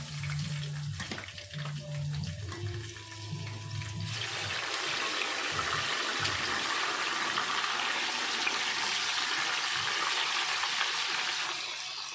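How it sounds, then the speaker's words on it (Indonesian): Tempeh dropped into hot oil for frying in a home kitchen, with a steady, loud sizzle and crackle rising after a few seconds of clatter and handling noises, then holding on continuously. "Waktunya kita goreng tempe."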